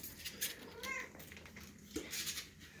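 A spotted kitten gives a few soft, faint meows, spread across a few seconds.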